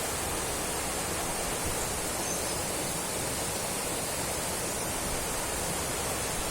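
Stream water rushing at the foot of the Kolli Hills near Puliyancholai, a steady, dense wash of flow that holds constant throughout with no voices over it.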